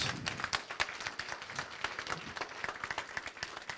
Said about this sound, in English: Ladies and gentlemen, let's give a round of applause.